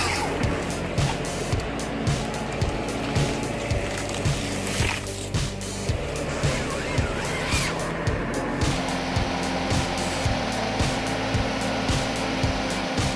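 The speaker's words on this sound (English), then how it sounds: "The Lumberjack LJ150 is a hydraulic tree shearing machine capable of cutting trees up to 15 centimeters." A Lumberjack LJ150 hydraulic tree shearing machine works through trees, its engine droning continuously under a regular, repeating mechanical thump and rattle, with brief louder bursts of noise partway through.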